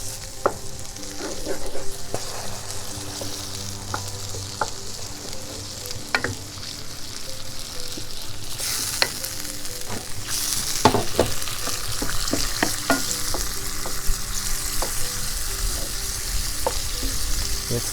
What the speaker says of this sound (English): we're going to add some tomato sauce. And we're going to give it a quick stir.